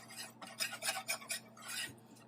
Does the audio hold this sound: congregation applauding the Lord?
no